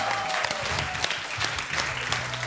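Audience applause at a televised karaoke championship, steady dense clapping from a crowd filling the whole stretch, with a faint voice briefly audible beneath it.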